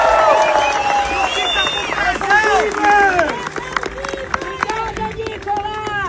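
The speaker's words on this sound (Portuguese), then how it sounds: "Eu peço agora uma salva de palmas pro Clezão" A crowd at an outdoor political march toward Brasília claps and cheers for Clezão, busy mixed applause with shouting voices and whistles layered over it.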